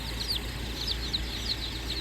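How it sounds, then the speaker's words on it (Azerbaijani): At a busy market in Ganja, chicks give repeated high thin cheeps over a dense steady background rumble of crowd noise. "Cücələr də var burada."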